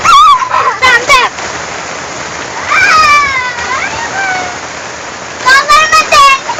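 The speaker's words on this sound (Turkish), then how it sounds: "Yaz yağmuru da çok güzel ama. Çok kocaman akıyor." Heavy summer rain splashes and pours onto the ground in a park, a steady loud hiss of water. Children's excited voices come and go over it.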